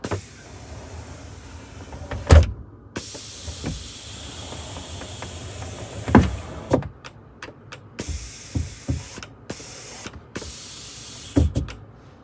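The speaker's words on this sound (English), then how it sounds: "the door was not correctly moving. It was hitting something inside the wall." A pocket door on a 1998 Newell coach is driven by an air cylinder, with hissing air, sliding rumble and several sharp knocks as it hits something inside the wall, interrupted by brief silences.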